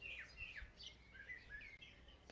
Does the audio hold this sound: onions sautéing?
no